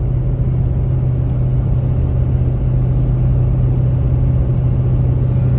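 Inside a car cruising at 78 mph in sixth gear at about 2,000 RPM, a constant low engine drone and road rumble fill the cabin, steady and unbroken throughout.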